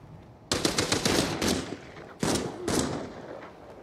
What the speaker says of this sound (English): That's a deagle.